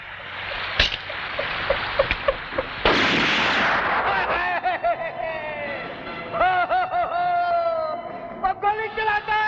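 Two sharp, loud gunshot blasts fired into the air ring out close by, with someone talking over and after them.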